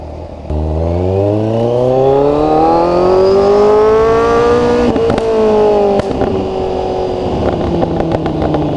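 A Kawasaki Z1000 motorcycle revs loud and close while being ridden, its engine pitch climbing steadily before a quick gear change, then settling into a lower rumble.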